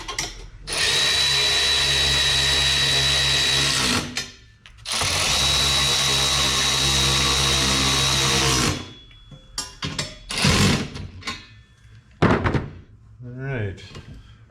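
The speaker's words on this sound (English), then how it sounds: "we got a little hardware to tighten up on this bracket for the bench here. Just 7/16 hardware." A power tool whirs in two long, loud bursts, driving 7/16 hardware on a bench bracket, followed by short clanks and handling knocks, up close with no talk.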